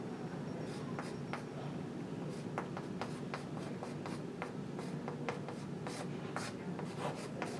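Steady marker or pen strokes scratch across a board while a math derivation is written out during a lecture on line integrals, with short rhythmic rubbing bursts and taps at close range and no talking.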